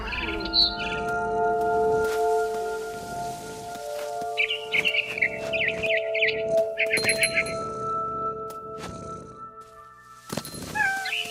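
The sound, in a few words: barn swallow chirping in What Remains of Edith Finch video game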